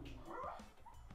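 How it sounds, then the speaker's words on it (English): A dog whimpers and gives short barks close to the microphone, a brief whiny burst of vocalizing over a low background rumble. "That's my dog."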